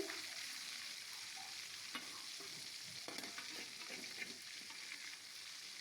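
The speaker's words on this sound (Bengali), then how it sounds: "এক পিঠ ভাজা হয়ে গেছে, উল্টে দিচ্ছি।" Hilsa fish pieces, washed and coated with salt and turmeric, fry in oil and are turned over; a quiet, steady sizzle runs throughout with a few soft scrapes and clicks from the flip.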